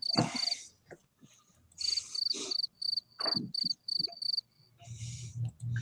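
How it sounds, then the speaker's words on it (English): Crickets chirp in rapid, evenly spaced bursts that come and go in short clusters, fairly close and clear, with a low hum and faint murmur underneath. "How are those crickets?"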